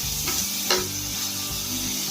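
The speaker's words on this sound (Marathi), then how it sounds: "आता टमाटर टाकून घ्यायचं आहे कट केलेलं।" Chopped tomatoes sauté in a hot kadhai with ginger and garlic for Kolhapuri misal pav, giving a steady close sizzle with a spoon scraping and stirring through it.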